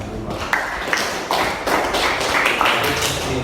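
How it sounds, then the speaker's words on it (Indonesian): Nanda Abdullah is applauded in a classroom with a dense, close burst of clapping and tapping that stays busy and fairly loud for several seconds. "Aplaus buat Nanda Abdullah"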